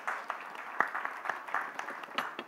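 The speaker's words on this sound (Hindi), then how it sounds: "पहले एक बार ताली सौरा के लिए शानदार ताली" Audience applause welcoming a guest onto a Hindi talk stage, a short burst of scattered hand claps at moderate level with no speech over it.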